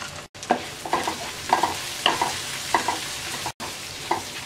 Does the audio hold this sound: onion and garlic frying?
yes